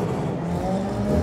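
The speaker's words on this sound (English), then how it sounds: "Heading off in the Mark II Ford Escort. He's got a 2-litre Honda engine in that, developing around 220 brake horsepower" A Mark II Ford Escort race car with a 2-litre Honda engine of about 220 brake horsepower pulls away at a Mondello Park trackday. Its engine gives a short, loud, steady roar close by.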